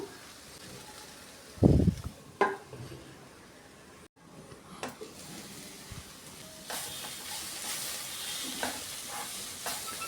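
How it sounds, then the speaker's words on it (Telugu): Cabbage and coriander cook in a little oil in a pan, with a soft, continuous sizzle and a couple of sharp clatters from stirring or the lid early on, close and fairly quiet. "నేను ఇక్కడ తక్కువ నూనెతోనే క్యాబేజీని మగ్గించుకుంటున్నాను"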